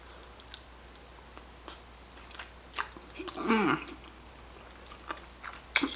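Soft, close chewing and biting on a slice of vegan, sugar-free apple pie made with about six apples, quiet irregular mouth sounds with a brief louder squishy bite midway and faint breaths.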